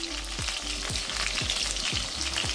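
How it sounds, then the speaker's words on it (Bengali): Potato pieces fry in a pan with salt and a little turmeric as the base for a chicken curry, giving a steady, dense sizzle broken by regular stirring strokes about every half second, with no talking. "আলু ভাজার সময় একটু লবণ দিয়ে দেবো আর একটু সামান্য হলুদ।"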